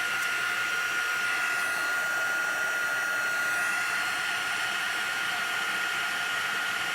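A heat tool blows a continuous, steady whooshing hiss to melt heat emboss powder over a rubber stamped image, loud and close with no pauses.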